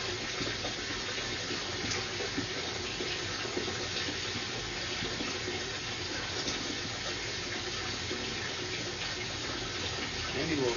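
Water flows through a partly rotted drain pipe during a sewer camera inspection: a steady, faint, hollow trickling and rushing that continues without pause.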